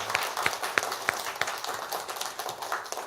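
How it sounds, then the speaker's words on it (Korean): A church congregation applauding during a Sunday service, a steady wash of many hands clapping at moderate distance with scattered sharper individual claps standing out. "우리 하나님께 큰 박수로 영광을 돌려드리기를 원합니다."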